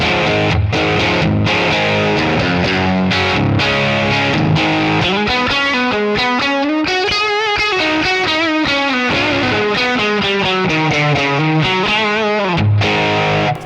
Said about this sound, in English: I have an overdrive set here on my distortion micro.